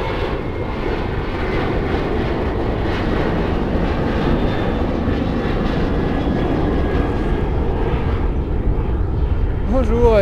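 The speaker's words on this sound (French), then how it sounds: "devant ce décollage d'un avion Transavia" A Transavia airliner takes off from the runways at Orly airport, its engines roaring in a steady, broad, loud wash for the whole stretch, with no let-up.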